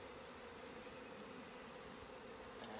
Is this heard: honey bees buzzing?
yes